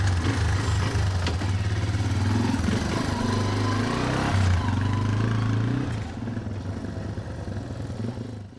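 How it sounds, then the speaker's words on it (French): Motorcycle engine running steadily at close range, the main working vehicle of a microfinance loan officer who visits remote rural clients in Latin America; a loud continuous low drone that eases slightly toward the end. "Principal outil de travail de José Tomás, la moto"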